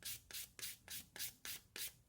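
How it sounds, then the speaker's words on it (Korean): A leather edge is smoothed with 800-grit sandpaper in seven quick, evenly spaced rubbing strokes. The scratchy swishes are close and crisp, with no voices. "이제 800방 정도 사포 요걸로 해서 또 다듬어 줍니다"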